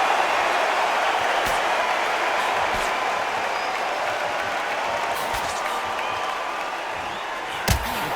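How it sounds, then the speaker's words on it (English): A boxing arena crowd in Undisputed Boxing hums and murmurs as a steady broad roar, with occasional thuds and a sharp slam near the end, a commentator's voice faintly underneath. "The crowd here cannot wait. They've been buzzing all day long"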